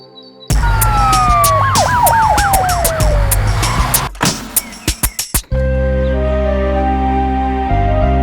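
An ambulance siren swoops up and down in a rapid series of wails over a rumbling engine, followed by clattering knocks and a steady low hum, in an animated children's story.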